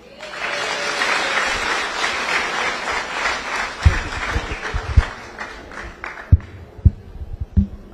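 Crowd at a political rally in Murang'a County applauds in a dense burst that gradually thins into scattered individual claps and a few loud nearby bangs toward the end.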